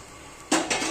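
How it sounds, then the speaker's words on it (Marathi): Dried fish tipped from a wok onto a metal plate: after a quiet moment, two quick bright metallic clatters and scrapes ring out close by, with no talk. "आता आहे ना हिला एका ह्या परातीत पुन्हा काढून घ्यायची आहे"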